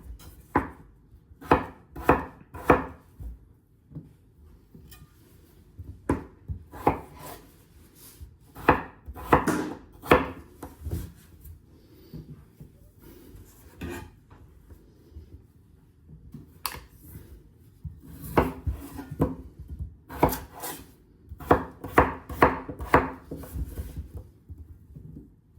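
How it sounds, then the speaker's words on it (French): Peeled potatoes being cut into cubes on a board, knife strikes landing in quick bursts of several chops separated by short pauses, close and crisp. "je viens de finir d'éplucher les pommes de terre. Là, on va les couper"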